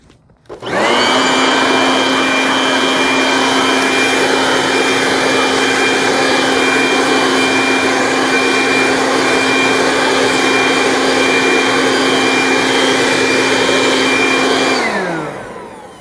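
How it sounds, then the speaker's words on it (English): A corded electric leaf blower switches on and runs at a constant high-pitched whine with a strong airy roar, very loud and close, holding steady for about fourteen seconds before winding down at the end. "All right, first up, electric corded blower."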